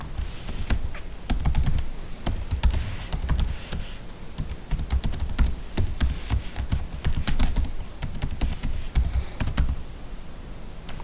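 Steady, fast clicking of keys on a computer keyboard while a username is typed in at an FTP login prompt on Windows Server 2019, close and continuous with no talk.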